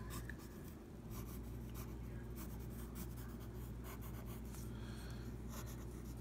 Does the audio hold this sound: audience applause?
no